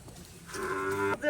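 Fleckvieh cattle at a farm of bulls and heifers give a loud, close, drawn-out moo lasting about half a second, then a second moo begins right after it, with no talk.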